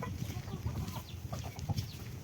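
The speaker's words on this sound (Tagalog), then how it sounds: "Parang galit yung aming manok." Agitated chicken clucking in a backyard coop during rainy weather, short throaty squawks and clucks repeating close by amid a steady, noisy background.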